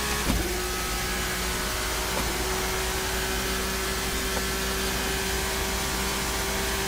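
Race car engine in the sim racing game Assetto Corsa at Circuit Paul Ricard, a steady, sustained drone at high revs with a constant tone and no talk.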